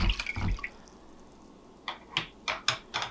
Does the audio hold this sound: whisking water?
yes